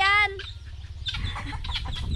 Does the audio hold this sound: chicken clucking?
yes